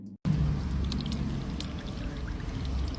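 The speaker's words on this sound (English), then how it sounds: "This here, people, North Miami water. See all that rust coming out?" Rusty tap water in North Miami gushes steadily from a faucet after a brief silent start, a close, continuous rushing pour with no talking.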